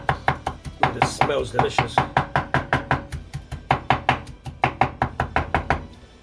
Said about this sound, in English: I'm gonna cut up the cilantro